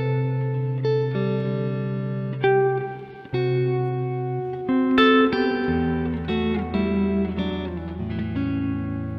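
Electric guitar played through a Caline Ragnarok reverb and delay pedal, with a run of sustained chords and notes. Each one rings out in a long reverb wash and echoing tails, loud and alone with no voice.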